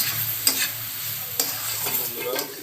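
Spice paste with chilli powder and chopped tomatoes stir-fried in oil for a chicken curry, low steady sizzling broken by a few sharp spoon scrapes and knocks against the pan.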